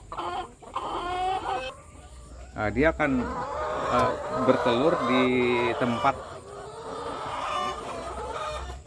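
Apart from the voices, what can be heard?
laying hens clucking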